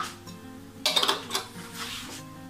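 A spoon scrapes and clinks against a bowl while stirring fruit plum cake batter, with a brief burst of clatter in the middle and softer scraping after.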